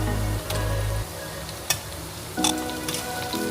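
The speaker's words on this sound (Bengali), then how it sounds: "অর্ধেক মতন ছোট একটা টমেটো কুচি করে নিয়েছি, যেটা দিয়ে এবার আমরা নেড়ে চেড়ে নিচ্ছি" Chopped tomato stirred into frying onion in a pan, a soft close sizzle with a couple of spatula scrapes and taps, no talking.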